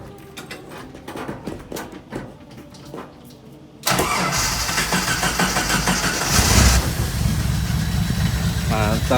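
A Jeep CJ engine cranks and fires at about four seconds, then settles into a loud, steady idle with slight revving. Indistinct voices are heard before and after it starts.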